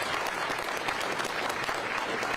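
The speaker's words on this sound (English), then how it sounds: "Can we give them a round of applause for that?" An audience claps continuously at a YMCA grand opening and ribbon cutting ceremony, a dense, even burst of applause with light crowd murmur.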